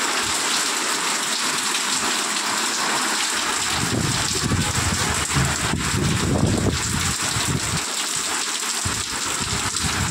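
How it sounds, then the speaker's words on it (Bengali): A heavy afternoon downpour roars steadily close by, dense rain hammering surfaces with gushing surges that swell in the middle before settling, no one speaking. "এখন কয়েক মিনিটের মধ্যে মুষলধারে বৃষ্টি চলে এলো।"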